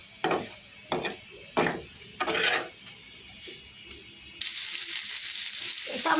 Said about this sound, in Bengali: প্যানে সামান্য তেল দিয়ে পটলগুলো দিয়ে দিয়েছি, আর এই সঙ্গে সঙ্গে পেঁয়াজ কুচিও দিয়ে দিলাম।